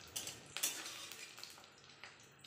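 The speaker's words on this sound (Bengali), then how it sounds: "এবার বড়াগুলিকে উল্টে পাল্টে ভেজে নেব।" Coconut fritters being flipped and fried in a pan, with soft sizzling under scattered clinks and scrapes of a utensil against the pan.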